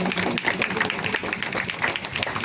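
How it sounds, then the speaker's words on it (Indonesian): Dense, steady applause from an audience at a community gathering, many hands clapping at once with a constant roar and no clear pauses. "Ya, kita tepuk tangan"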